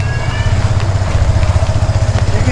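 A motorcycle idles under a bridge, its engine putting out a steady, throbbing low chug that stays close and fairly loud, with a faint hiss of traffic or wind behind it.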